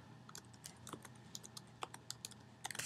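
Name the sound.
typing on a computer keyboard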